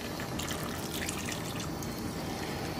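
Half a glass of water poured into a mixer jar holding mutton for dal gosht, a steady close splashing trickle running the whole time with no voices.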